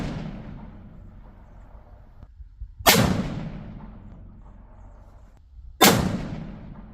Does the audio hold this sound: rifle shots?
yes